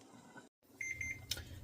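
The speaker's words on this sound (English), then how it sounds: "my little timer is telling me that it's been 10 minutes of simmering" A small kitchen timer beeps four times in an even, rapid run, then gives a brief clatter, sounding close and fairly quiet in a still kitchen after a pot of green beans and potatoes simmers.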